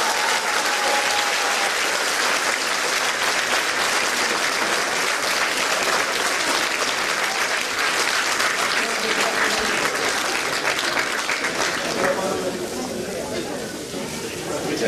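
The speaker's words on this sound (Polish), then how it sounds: "Prosiłbym o brawa dla nich" Audience applause fills a Women's Day event at a community culture centre, steady dense clapping running loud and continuous for the whole stretch before thinning slightly near the end, with some voices mixed in.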